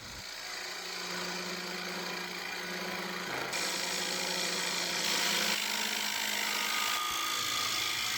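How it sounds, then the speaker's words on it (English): A drill bit bores a depth hole into a spalted maple bowl blank spinning on a wood lathe, giving a steady, close grinding and whirring that shifts in pitch as the cut deepens, with no talking. "I'm going to use my handy little drill bit to give me a bit of a depth hole"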